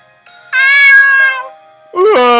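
A cat meows twice close by, a drawn-out tonal meow followed after a short gap by a second, rising one, loud and clear in a quiet room.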